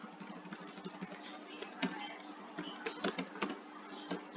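Typing code on a computer keyboard in a Python programming session: a steady run of light, close key clicks with irregular rhythm and a few louder strikes, over a low constant hum.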